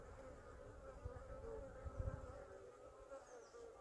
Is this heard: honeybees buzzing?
yes